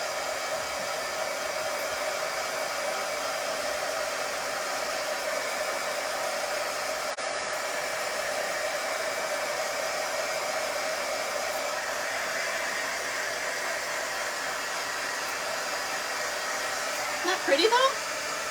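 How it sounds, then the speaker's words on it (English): An embossing heat gun blows continuously to dry a handmade greeting card, a steady, close whooshing fan noise that holds at an even level throughout, with a brief clatter near the end. "I'm going to bring out my embossing gun because it gets a lot hotter"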